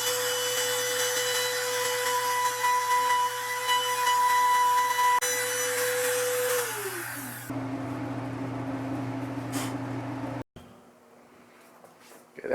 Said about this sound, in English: And then you take the router and trim this edge of your plywood with the bit you're going to use